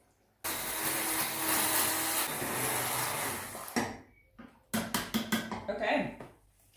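A blender whirs loudly for about three seconds as it purees cucumber and carrot strips with mint or coriander leaves and lime, then cuts off, followed by several short clattering bursts nearby.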